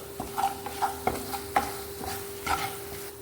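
Lololikka pickle mixture with salt and spices being stirred in a pan, a series of close scraping strokes in an uneven rhythm over a faint steady sizzle, with no talking.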